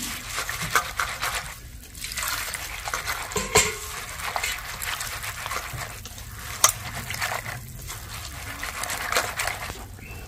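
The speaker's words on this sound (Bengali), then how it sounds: "এবার আমি মুড়িটা ভালো করে জল দিয়ে 2-3 বার ধুয়ে নেব।" Puffed rice (muri) being rinsed with water in a large bowl, with continuous sloshing, trickling and stirring of water close by, rising and falling in bursts with occasional light knocks against the bowl.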